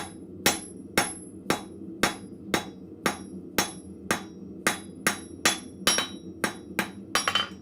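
A blacksmith's hammer strikes hot steel on an anvil while drawing out a square taper, about fifteen ringing blows at a steady rhythm, quickening into a rapid flurry near the end, close and clear.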